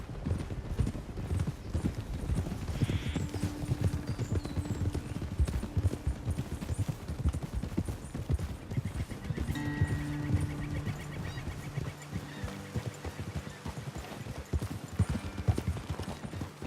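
Horses' hooves clip-clopping steadily while riding in Red Dead Redemption 2, a continuous close rhythmic gait throughout with faint tonal game sounds and music in the background.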